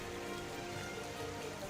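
Heavy rain falls on a flooded area of Washim, Maharashtra, with a dense, steady hiss of drops drumming on surfaces, constant and even throughout with no voices.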